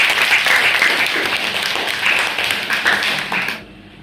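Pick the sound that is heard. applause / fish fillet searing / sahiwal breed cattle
applause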